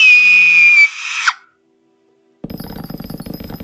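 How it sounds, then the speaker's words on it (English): A person lets out a high, sustained conventional scream for over a second, close and loud, and it cuts off abruptly. After a silent pause, busy rhythmic background noise starts up. "I'm gonna do a more conventional scream"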